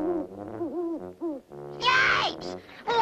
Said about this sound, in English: Sounds like Friend Owl to me.